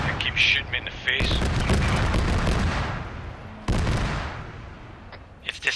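Loud, booming tank cannon fire in the Arma 3 battlefield game, with two heavy blasts whose rumble decays over a couple of seconds each, amid sporadic shots and faint voices.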